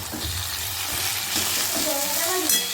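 Young jackfruit (echor), already fried, hisses and sizzles steadily in a pan as a ground spice paste is stirred into it, a close continuous crackle with a few faint clinks near the end.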